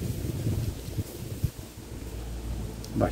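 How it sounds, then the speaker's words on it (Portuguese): Wind blowing outdoors during a desert rose glue-grafting session, a steady low rumbling gust noise buffeting the microphone, with a brief soft knock near the end and no talk. "bastante vento aqui."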